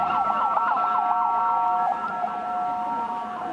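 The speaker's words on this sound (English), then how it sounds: "Oh, watch out, we got an ambulance coming through." An ambulance siren wails steadily in a rapid rising-and-falling pattern during protests in the West Bank, loud and close, with faint traffic rumble underneath.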